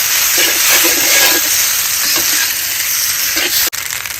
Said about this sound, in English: we are stir frying the noodle in a batch